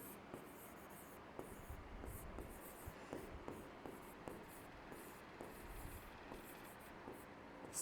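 Chalk or marker writing on a board, a faint series of short rhythmic strokes and taps coming close together over a quiet room background, with little or no talk.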